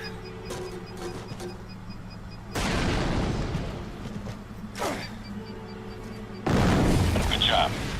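Grenade explosions in the video game Fracture, two heavy booms several seconds apart bursting over a humming game background, while someone talks between them.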